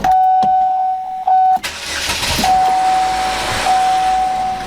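A Chevrolet Captiva engine, idling low, cranks and starts with a sharp burst, then runs with a steady mechanical clatter from the timing chain, while intermittent electronic beeps sound over it.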